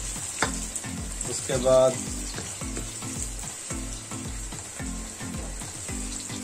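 Ginger and garlic browning in a frying pan for a chicken and bitter gourd curry, a steady close sizzle with rhythmic stirring scrapes and a brief louder clatter near the start.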